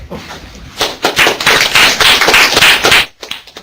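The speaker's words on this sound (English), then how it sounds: "we have to clap every time" Applause from a seminar audience after a speaker is introduced for a talk on high-throughput phenotyping and drought tolerance, a dense burst of many hands clapping that swells for about two seconds, then stops abruptly.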